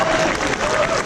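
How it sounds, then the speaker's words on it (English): Audience applause at BlizzCon 2016's voice actor stage, a dense, steady wash of clapping from a large crowd, loud and continuous for about a second. "Let's clap for him"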